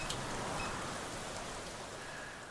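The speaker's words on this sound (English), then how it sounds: "The downpour finds its way into the drainage canal, its water level slowly rising." Heavy rain pours into a drainage canal in the video game NORCO, a steady, even hiss of falling water that holds at a moderate level throughout with no voices.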